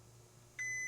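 A continuity tester gives one clean, steady electronic beep as probes touch a circuit on a faulty car transmission control module, starting abruptly after a quiet hum.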